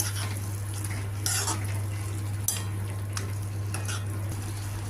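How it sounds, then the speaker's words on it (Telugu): A broad bean and potato curry with tomato paste and mustard seeds simmers in a pan as a spoon stirs it, giving intermittent scrapes over a faint sizzle and a steady low hum. "కూర మగ్గుతోంది"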